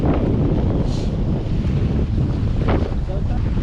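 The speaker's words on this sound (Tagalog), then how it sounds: "malakas na yung hangin" Strong wind buffets the microphone in a steady, loud roar, with faint water and fishing boat sounds underneath and no one speaking.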